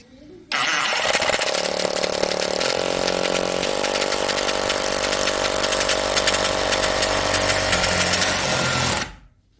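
A Parkside PKHAP 20-Li D4 cordless hammer drill gives a loud, harsh drilling roar that starts abruptly, runs steadily for about eight seconds, then cuts off, with a hammering rattle throughout.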